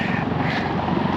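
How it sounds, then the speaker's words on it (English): Helicopter passing low over a beach, a steady close rotor and engine drone filling the brief moment, loud and unbroken with no talking. "There's a helicopter. Flying over the beach. It's very low."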